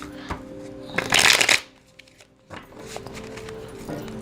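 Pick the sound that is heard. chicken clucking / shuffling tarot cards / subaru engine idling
shuffling tarot cards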